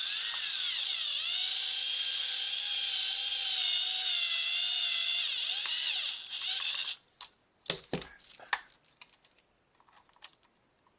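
An electric drill drives screws into a battery plug on a Losi Promoto-MX: a long, steady whirring buzz, then a few short bursts and clicks as the screw seats, close up with no talk.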